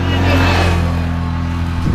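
A quad bike engine drones loudly and steadily with a low harmonic hum, close by, towing a rider on a beach spit near Anapa, its pitch shifting slightly near the end as it works under load.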